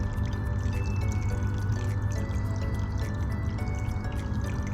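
Water pours steadily over a gold sluice mat, washing a scoop of dirt through a small pan machine: a continuous close splashing and gurgling flow with no talking.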